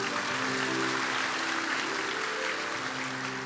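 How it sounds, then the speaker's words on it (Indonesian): Scattered, half-hearted applause from a church congregation during a sermon, a thin steady patter of hands with a low hum beneath it. "Tepuk tangannya gak mantap sih"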